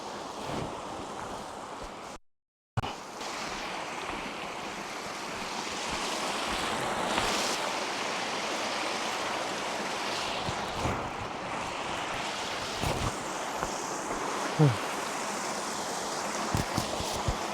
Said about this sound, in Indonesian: Dan kita menemukan sungai.